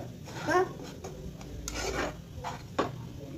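A spatula scrapes and stirs semolina roasting in ghee in a pan, making soft, intermittent rubbing strokes with an occasional sharper scrape, fairly quiet and close.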